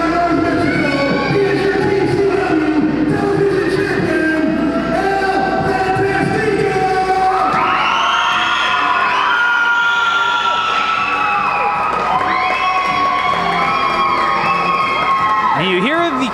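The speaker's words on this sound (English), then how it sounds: "you hear the crowd scream for the brand new TCW television champion" A wrestling crowd at a TCW television championship event screams and cheers loudly and continuously, shrill voices rising in waves, with an announcer's voice under the din.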